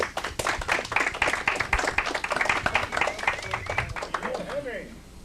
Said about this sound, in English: Everybody give a round of applause to Henry.